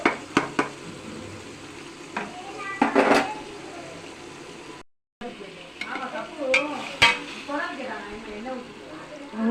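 Ginger garlic paste sautéing in a pan with tomato, onion, green chilli, mint and coriander for chicken biryani, a soft steady sizzle with occasional stirring scrapes and clinks, and a voice speaking over it.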